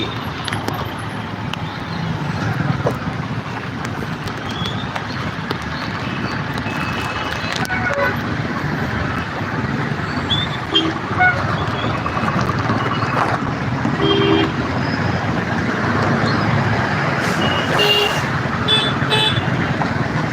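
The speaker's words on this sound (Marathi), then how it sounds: "बघा कसे ट्रॅफिक पूर्णपणे पॅक आहे" Packed evening traffic jam heard from a vehicle, with a constant engine and road rumble, wind noise, and scattered car horn toots near and far through the whole stretch.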